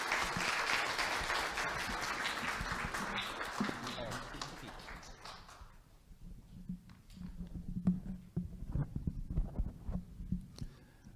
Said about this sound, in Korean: As he come on out, please applaud